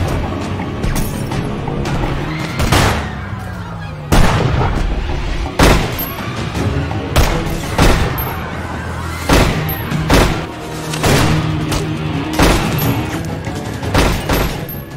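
Gunfight in an action film: repeated loud gunshots and sharp impacts burst in irregular volleys across the whole stretch, with crashes and a steady background rumble between shots.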